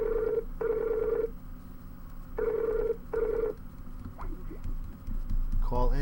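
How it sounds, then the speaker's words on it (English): A telephone rings in two pairs of electronic trills, fairly close, with low background murmur and a brief clatter near the end. "The phone is ringing."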